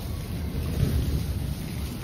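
Heavy night rain pours down in a steady, dense roar with a low rumble underneath, constant from start to finish without any distinct thunderclap or voices.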